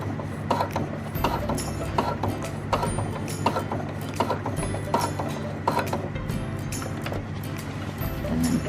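Sewing machine stitching nylon webbing onto a pocket, running in steady mechanical bursts with a rhythmic clatter throughout, close and fairly loud.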